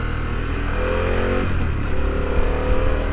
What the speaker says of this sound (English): for the stock exhaust, this bike doesn't sound bad